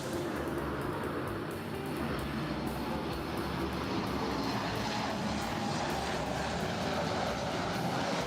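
A Southwest Airlines Boeing 737 MAX 8 arrives at LAX as a steady, fairly faint engine roar that holds an even level throughout, with no talking.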